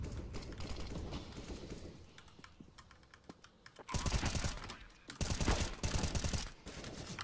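Rapid automatic gunfire in the tactical shooter CS:GO, sharp close bursts breaking in around a continuous clatter of keyboard typing, with loud volleys in the second half.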